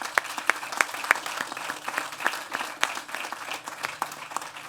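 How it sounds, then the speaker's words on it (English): Audience applause at a transit agency's headquarters grand opening in Delray Beach, a moderate crowd clapping steadily with a few sharp, distinct claps standing out near the front. "I think they deserve a round of applause."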